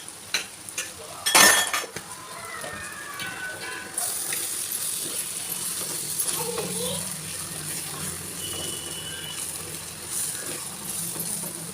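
A spoon clinks and scrapes in a cooking pot while ground coriander and cumin are stirred into a prawn and raw mango curry, with a sharp metallic clatter early on and then a steady sizzling hiss.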